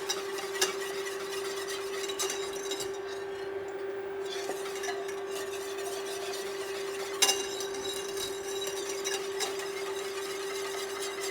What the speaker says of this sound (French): Je mélange encore un petit peu.